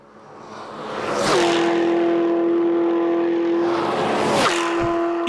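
Tuned production car at about 300 km/h on the Nardo high-speed track, roaring in loud, swelling into a sustained high-pitched engine whine, then a second sharp rushing surge as it passes again.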